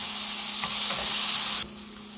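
Olive oil with garlic and rosemary sizzling as it heats in a pan, a loud, bright, steady frying hiss that drops off sharply near the end.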